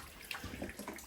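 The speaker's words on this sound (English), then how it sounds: "right now I'm just letting the buckets catch the drips" Water drips from a leak into buckets set out to catch it, in a homestead building under construction, with soft irregular splashes and patters close by, no voices.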